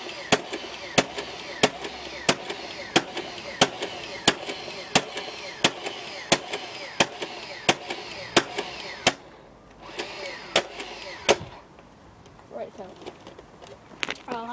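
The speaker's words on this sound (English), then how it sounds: "But now I'll fire the dart like that." A battery-powered Nerf Swarmfire blaster shoots foam darts in a rapid run of sharp, evenly spaced pops, about a dozen in a row, then a few more after a brief pause, with a mechanical whir beneath and some talking.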